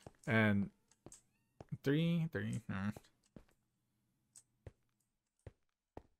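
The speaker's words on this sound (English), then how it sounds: "I don't know if you heard that, but that was my cat." A house cat meows twice, close and fairly loud, followed by scattered clicks and light tapping in an otherwise quiet room.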